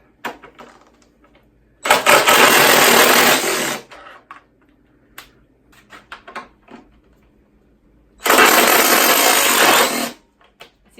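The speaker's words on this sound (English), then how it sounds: "we'll probably use an impact to get them all the way out" Impact wrench working bolts loose on a BMW F750GS/F850GS motorcycle luggage rack, two loud sustained buzzing bursts of about two seconds each, separated by quieter clicks and handling noises.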